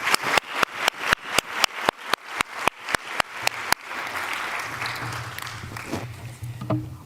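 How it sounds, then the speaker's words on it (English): A conference audience breaks into sharp, rapid, evenly spaced applause for a panel of speakers, which gives way after a few seconds to a softer, steady room murmur with scattered sounds. "Please join me in giving a round of applause to our panelists"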